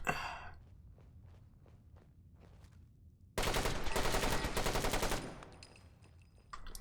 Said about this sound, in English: he can shoot through that grate